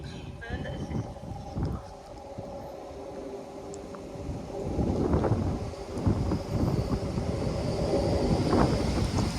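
A nine-coach Class 800 train, unit 800 306, passes along the line at Dawlish with a broad, rising rumble that swells in the second half, buffeted by steady wind noise on the microphone.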